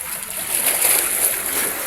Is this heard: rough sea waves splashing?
yes